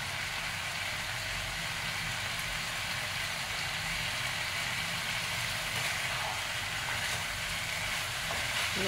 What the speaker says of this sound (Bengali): টমেটো কুচি দিয়ে এটাকে বেশ করে কষিয়ে নিতে হবে। আর তার সঙ্গে দিতে হবে একটু চেরা লঙ্কা।